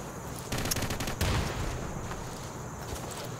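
Rapid bursts of rifle and machine-gun fire in a modern infantry combat shooter, loud and sustained, with sharp cracks crowding together over continuous battle noise and no talking.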